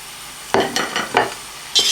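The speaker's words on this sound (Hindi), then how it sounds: "तेल को चंद सेकंड के लिए गर्म होने दें और फिर उसमें आप अपने अनियन यूँ डाल दीजिएगा।" Onions dropped into hot olive oil in a pan for a bhindi dish, giving a few bursts of close sizzling and scraping over a quiet background hiss.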